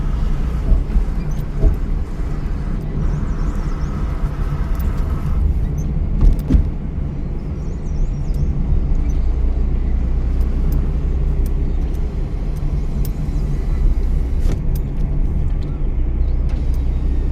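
A car driving steadily in heavy rain while slowing down, with a constant low engine and road rumble, a gear change, and faint clicks and taps over it.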